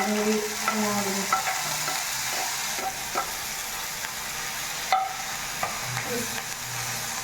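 Mustard seeds crackling and popping in hot oil with green chili and ginger frying for an okra pickle, a steady sizzle broken by sharp scattered pops and occasional stirring clinks, with no voices.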